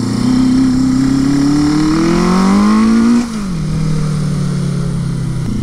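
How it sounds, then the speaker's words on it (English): A Suzuki GS850 scrambler motorcycle, with carburetors being tuned and bogging in the mid-range, drones loudly and close while ridden. The engine pitch climbs steadily, then drops suddenly and settles into a lower, steady hum. "I've been riding for quite a little bit and it's still bogging out in the mid-range"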